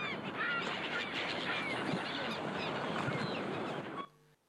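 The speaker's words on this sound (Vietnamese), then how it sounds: "Nghe những cái tiếng chim và tiếng sóng biển đúng không?" Seabirds call and honk repeatedly over a continuous wash of sea waves on a shore, the mix steady and moderately loud before cutting off abruptly near the end.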